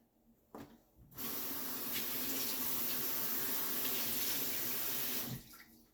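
Tap water runs steadily into a sink as a pepper is rinsed, a close hissing splash that starts after a brief clatter and stops abruptly about five seconds later, with no voices.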